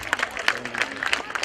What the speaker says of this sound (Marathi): या मुलीसाठी ना जोरदार टाळ्या झाल्या पाहिजे